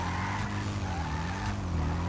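Car engine revving hard with tire screech in Grand Theft Auto V, a loud steady droning roar with a faint skid squeal running throughout, no talk.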